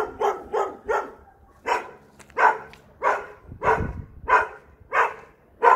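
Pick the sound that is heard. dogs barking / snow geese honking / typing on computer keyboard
dogs barking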